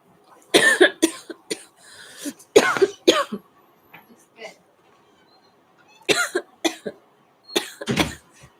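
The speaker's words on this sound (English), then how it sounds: "I'm already coughing" Someone coughs repeatedly in harsh, close bursts, a cluster early on, another pair midway and a final few near the end, with quiet gaps between.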